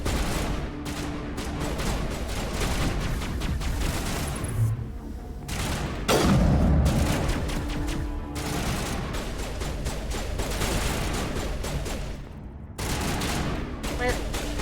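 Sustained enemy gunfire in Mass Effect Legendary Edition, rapid repeated shots and bursts over fourteen seconds with a heavier boom partway through, loud and dense, with some speech mixed in.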